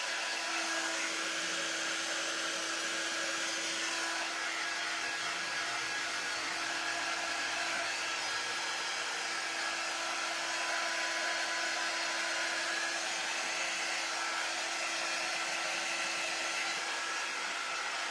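A hair dryer blows steadily to dry paint on a large craft egg, a continuous close whooshing hum with a faint whine that runs unbroken and alone, with no talking.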